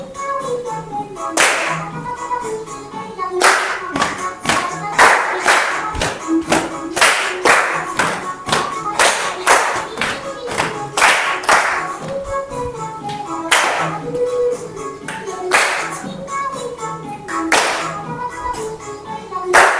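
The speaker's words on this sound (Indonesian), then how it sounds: "Tepuk tangan untuk kalian semua." Students clapping hands in a classroom, sharp in-unison claps in quick rhythmic bursts and patterns, close and loud, repeating steadily throughout with brief pauses between groups.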